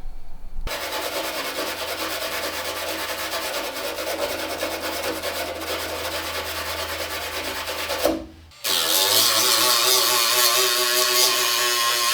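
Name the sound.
removing rust from BMW E28 car body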